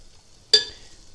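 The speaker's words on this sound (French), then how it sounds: "c'est la friture, bien entendu" Tunisian yoyo dough slips into hot frying oil and a sudden, close sizzle bursts up, then settles into a steady bubbling hiss with no talking.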